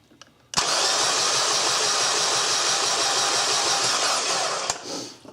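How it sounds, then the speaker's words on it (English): Suzuki Forenza engine cranking over after a cylinder head installation, a steady loud mechanical churning that runs for about four seconds, then stops. "So let's whip the engine over."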